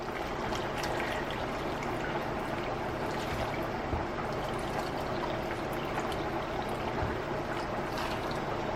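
Two cups of water poured into a pot of apples for apple butter, a continuous splashing pour heard fairly close at low volume without talk.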